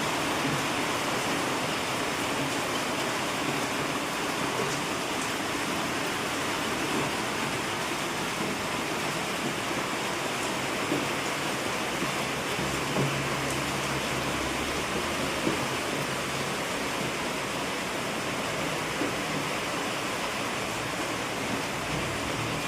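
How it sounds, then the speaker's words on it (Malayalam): Heavy rain pours steadily onto a yard, a dense, continuous wash of hiss filling the whole stretch with no voices over it. "നല്ല മഴയാണ് മുറ്റത്ത്."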